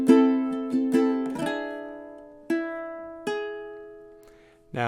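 Fingerpicked ukulele playing a measure of House of the Rising Sun, clear and close, with a few quick plucked notes followed by ringing chords that decay between strikes.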